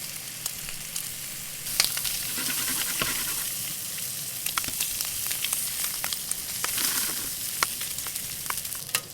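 Chipolata sausages sizzle steadily in a frying pan for a full Aussie breakfast, a close, continuous crackle with sharp pops and spits scattered throughout and no talking.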